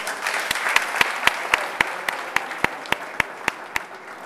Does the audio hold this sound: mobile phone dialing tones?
no